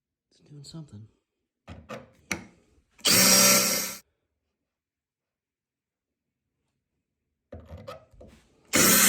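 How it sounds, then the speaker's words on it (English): A power drill grinds through the head of a stuck screw in a few loud, harsh bursts of about a second each, separated by short stretches of talk and quiet. "Drill the head off."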